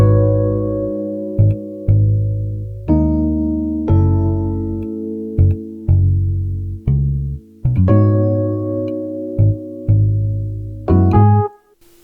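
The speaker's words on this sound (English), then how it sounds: "I added another different type of electric piano from Lounge Lizard" Lounge Lizard electric piano on its Tine preset plays a 70s soul chord progression: warm, sustained chords with soft attacks, each chord changing roughly every second, loud and close with no voices.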